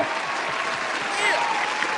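Applause for panelists at Morgan State's 90 Degree Show, a steady, loud wash of many hands clapping throughout, with a faint voice or cheer rising briefly in the middle.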